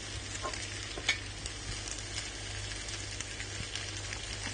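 Penne with arugula and asparagus is stirred in a hot pan, giving a soft continuous sizzle with light scraping and an occasional louder tap, close and fairly quiet.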